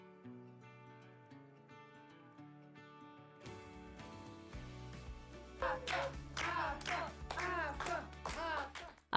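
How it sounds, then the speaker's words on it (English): Audience applause at a televised singing competition show, starting faint under music and then rising into louder clapping alongside a bright musical passage and a cheering voice. "Let's give a big round of applause as we see Avtandil off backstage."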